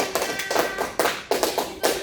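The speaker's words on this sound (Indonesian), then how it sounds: "tepuk tangan buat hari ini teman-teman semuanya" Students in a classroom clap in a few loose, uneven bursts, a handful of hands close by, with distinct separate slaps and short pauses between them.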